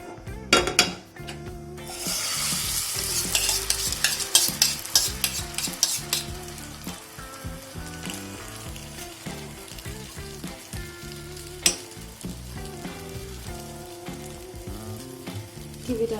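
Oil is spread across a pan for a Maggi omelette, with a steady close sizzle and frying hiss running throughout and occasional clinks and scrapes of a utensil against the pan.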